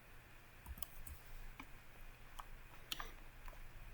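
Computer mouse clicks and keyboard typing at a desk during drafting work on a floor and foundation model, faint, sparse ticks scattered over a low steady room hum, with no speech.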